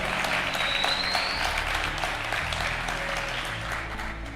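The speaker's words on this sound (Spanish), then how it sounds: "le damos un fuerte aplauso al Señor." A church congregation claps for the Lord during a Spanish-language sermon, sustained mid-level applause from a crowd in a large room, tapering slightly toward the end with a faint voice or two beneath.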